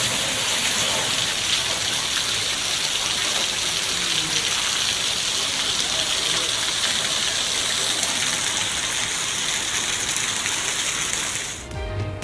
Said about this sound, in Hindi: गवादर में एक बार फिर तेज बारिश और जालाबारी।